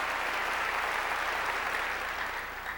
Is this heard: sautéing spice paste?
no